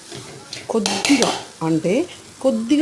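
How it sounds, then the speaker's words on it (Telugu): A ladle stirs moong dal into a hot tempering in a metal pot, giving scraping and clinking strokes in short bursts with a light sizzle, close up and without talk. "ఆ పెసరపప్పుని తాలింపులో వేసేసేయాలి. వేసిన తర్వాత మెల్లగా గంటతో కలపాలి."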